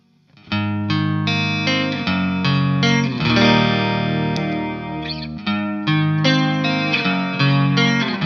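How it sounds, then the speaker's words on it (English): Bass guitar runs through a chorus pedal and plays a steady, distinct line of notes with a gently shimmering, doubled tone, loud and close with no talking. "Adds a little bit of chorus there, but doesn't change your guitar sound."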